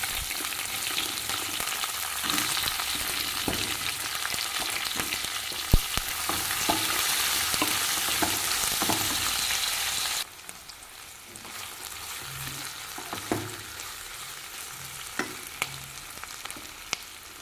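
Onions added to hot oil with cloves and cinnamon for a chicken gravy fry in a pan, giving a loud, steady sizzle with occasional clicks of stirring, easing down to a quieter crackle partway through.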